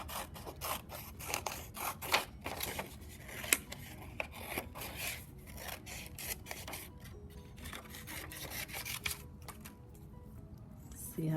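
Scissors snip repeatedly through paper, cutting out snowman pieces in quick, close, steady crisp cuts, with faint talk underneath.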